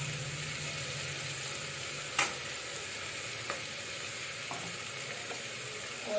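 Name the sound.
potatoes added to frying pan with turmeric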